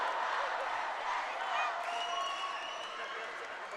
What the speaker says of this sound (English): All right, let's listen to the crowd.